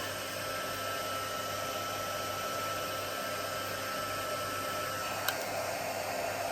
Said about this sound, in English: Let's get our heat gun prepared.